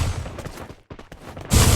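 Gunfire in a competitive shooting video game match crackles in quick bursts, with several sharp shots, a brief silent gap, then a louder dense burst of fire at the end.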